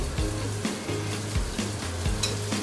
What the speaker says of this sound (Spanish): Después de la cebolla y el ajo, le echamos todo para sofreír.